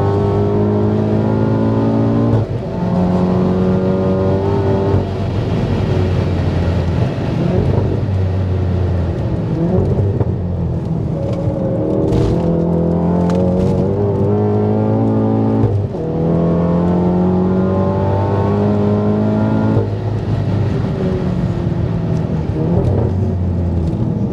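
Engine of a VW MK7 Golf R track build held in fourth gear through a long right-hander, droning loud and steady as it climbs, with repeated rising pitch sweeps and brief dips between pulls, heard alone without talk.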